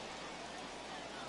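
Steady, dense hiss of rain falling at a minor league baseball game between the Pawtucket PawSox and Lehigh Valley IronPigs, a continuous close wash with no breaks.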